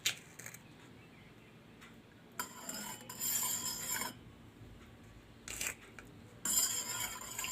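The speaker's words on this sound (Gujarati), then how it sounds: "આપણે 2 ગ્લાસ પાણી લીધું છે તો એમાં આપણે ખાંડ ઓગાળી લેશું" A spoon clinks and scrapes against a glass while stirring powdered sugar into water, in short bursts of rapid metallic tinkling separated by pauses.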